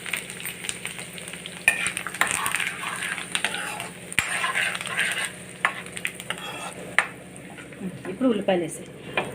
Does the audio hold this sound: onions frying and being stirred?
yes